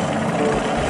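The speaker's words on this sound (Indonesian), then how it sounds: "Yang ini ada helikopter." A brief, steady whirring toy helicopter rotor sound, loud and close, lasting under a second.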